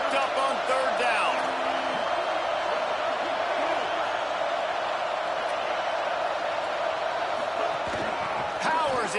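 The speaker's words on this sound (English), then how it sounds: "Crowd getting this defense whipped up on third down." A stadium crowd at an NCAA college football game roars to fire up the defense on third down, a loud sustained wall of cheering with whoops, bursts of noise and some indistinct shouting.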